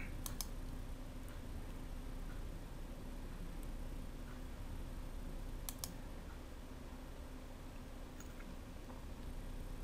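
Quiet, sparse clicks from a keyboard and mouse plugged into a tablet while playing a Strat-O-Matic baseball game, a few sharp taps spread over a steady low background hiss.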